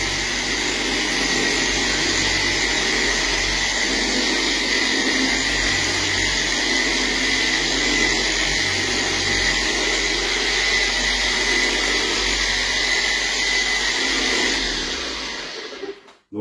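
Car polishing machine working Gyeon Q2 wax across a full bonnet, a steady loud broadband whir with a constant tonal hum that runs unbroken for about fifteen seconds before cutting out.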